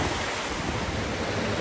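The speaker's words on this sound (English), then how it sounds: "So this is Laurel Falls, pretty spectacular." Laurel Falls, a waterfall beside the Laurel River on the Appalachian Trail, pours in a loud, unbroken roar of rushing water heard close up and alone.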